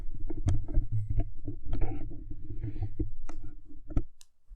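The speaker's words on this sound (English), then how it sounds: "I'm going to make another pass at dealing 8 cards" Playing cards dealt one at a time from a freshly shuffled deck, giving a run of quick, close, crisp snaps and flicks in an irregular rhythm with soft handling noise between them.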